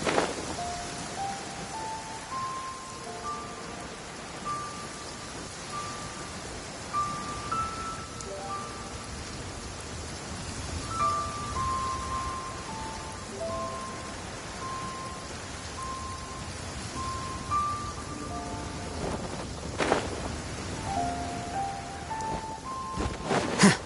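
Steady rain patters on surfaces in a Genshin Impact game scene, a soft even hiss lasting throughout while a gentle melodic chime line plays over it, with no voices.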